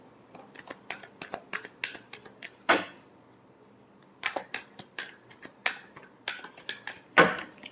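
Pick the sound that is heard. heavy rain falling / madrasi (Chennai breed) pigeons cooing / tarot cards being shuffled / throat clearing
tarot cards being shuffled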